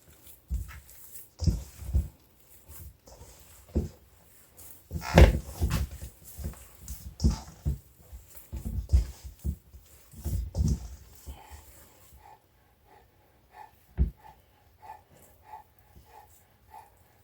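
A dog makes snuffling, huffing and pawing noises nearby in a kitchen, irregular bursts of breathy sounds and thumps, louder at first and then sparser and quieter with a faint steady tone behind.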